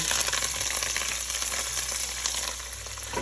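Chopped celery innards tumble into a hot gravy pan and crackle in a steady, close sizzle with a bright frying hiss throughout, no voices.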